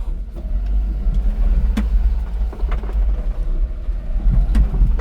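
A Daihatsu Hijet mini dump truck's engine drones steadily at low speed while lurching through a large hole, with occasional knocks and clunks over the rough ground.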